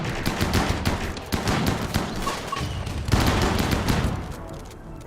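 Ship guns fire in a video game in a rapid volley of loud booming shots, repeated irregularly and close, with overlapping blasts and rumbling echoes throughout.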